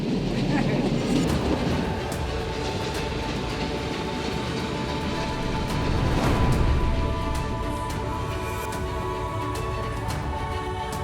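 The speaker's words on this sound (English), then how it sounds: "the train arrives in the small station of Pinhão" Miradouro vintage train pulling into the small azulejo-tiled station of Pinhão in the Douro Valley, a steady loud rumble of rolling rail wagons with metallic clatter and a swell of noise midway, faint voices mixed in.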